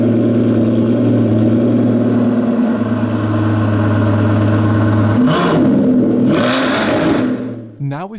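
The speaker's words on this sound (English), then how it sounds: "we find the car's new quad-exit titanium sports exhaust" A 2019 Aston Martin Vantage V600 Roadster with a quad-exit titanium sports exhaust idles with a deep steady rumble, then blips the throttle in two sharp revs before settling back, loud and close.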